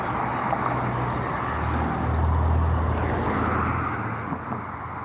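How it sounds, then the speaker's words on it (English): Steady road traffic roars past nearby for the full stretch, a continuous broadband rush with low engine rumble swelling slightly in the middle, no voices. "Sorry about all the traffic noise."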